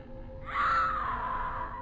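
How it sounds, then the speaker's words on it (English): A stock screaming sound effect from a Morrowind horror mod rises suddenly and holds as one sustained, fairly loud wail, then fades slightly toward the end over low background game ambience. "There's stock sound effects screaming at me."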